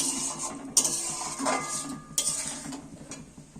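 Metal spoon scraping and clinking against a pan while vegetables are stirred after ghee goes in, a few sharp knocks over a soft sizzling bed, close and fairly quiet with no talk.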